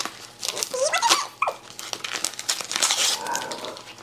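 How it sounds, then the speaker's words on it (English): A pet dog growls and grumbles at home, low rumbling vocal noises mixed with crinkling as a package is opened close by. "Please ignore her growling in the background."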